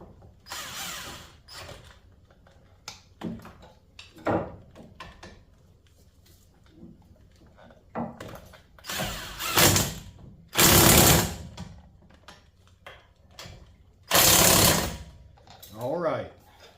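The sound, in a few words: tightening brake caliper bolts on a Silverado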